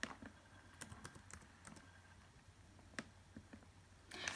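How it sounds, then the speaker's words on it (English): Quiet keystrokes click on a computer keyboard, a sparse, irregular series of light taps with a short quicker flurry at the end, faint and close with no talking. "Type in the remote IP address and the remote port number and local port number."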